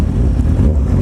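A Porsche's engine roars at close range as it accelerates from an intersection in a street race, a loud, steady low rumble with no voices over it.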